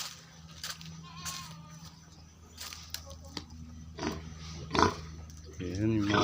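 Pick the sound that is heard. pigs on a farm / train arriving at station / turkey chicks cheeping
pigs on a farm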